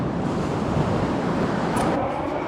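Ocean surf washes along a long, straight beach near Snowy River National Park in Gippsland, Victoria, making a continuous broad roar of breaking waves with no voices.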